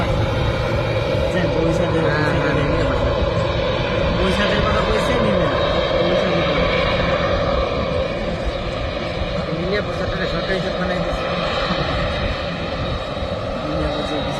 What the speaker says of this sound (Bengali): দেখতে পাচ্ছেন আপনারা বিমানটি ফ্লাই করে ফেললো।